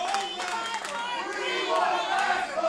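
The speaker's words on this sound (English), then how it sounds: "Crowd chanting for Raspa" A wrestling crowd at a live rassling show chants and shouts for Mark Raspa Jr., a dense, steady roar of many voices with rhythmic vocal swells, loud and sustained throughout.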